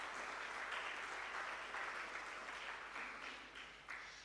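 Audience at a school robotics challenge applauding a sponsor, sustained clapping heard fairly faintly and at a distance, steady for the whole stretch.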